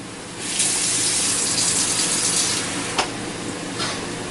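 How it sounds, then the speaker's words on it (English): Water poured from a tap or jug over a bread mixture in a ramekin, a steady gushing stream lasting about four seconds with a brief splash near the end. "I'm going to give it a little more water because I don't think that's holding together as much as I want it to"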